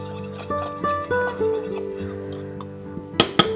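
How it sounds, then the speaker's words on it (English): A fork scrapes and clinks against a glass bowl while blending dry spices, bright ringing taps in an irregular rhythm, ending with two sharper louder clinks close to the microphone. "So I'll just use a fork to blend it together."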